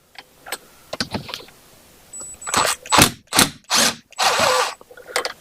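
A hand ratchet loosens the head bolts on a 1966 Honda 305 engine, giving several short bursts of rapid clicking close up, with a few quieter clicks and metallic taps between them.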